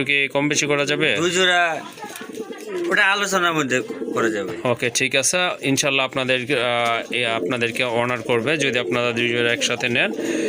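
Quality fancy pigeons being shown for sale coo and call steadily and up close, their layered throaty calls running continuously over the whole stretch with someone talking throughout.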